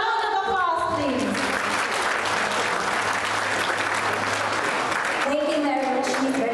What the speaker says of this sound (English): Let us all give the two men a big round of applause